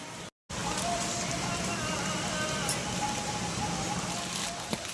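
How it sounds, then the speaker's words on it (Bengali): Sudden steady rain falling outdoors, a dense continuous patter with light crackling drops throughout, broken only by a brief gap near the start. "বৃষ্টি পড়ছে হঠাৎ করে।"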